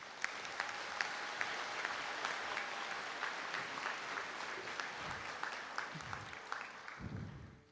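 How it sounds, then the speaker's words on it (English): Sustained applause from an audience at a conferring ceremony in Donegal, dense steady clapping that runs several seconds before thinning out and fading at the end. "A round of applause, please."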